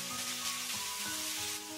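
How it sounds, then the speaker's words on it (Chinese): Sea bass pieces with green and red peppers stir-fry in hot oil, giving a steady, bright sizzle that carries on without a break through a brief moment of cooking. "然后给它翻炒均匀"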